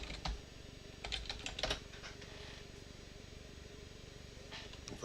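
A password is keyed in on a computer keyboard as a short burst of quick, close clicks early on, then a quieter stretch of faint background hiss.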